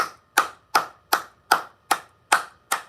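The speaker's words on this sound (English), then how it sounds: "Let's give her a round of applause for going so deep, Kelly." Eight sharp, evenly spaced hand claps from a single person, slow and steady at about two or three per second, close by and crisp against near silence.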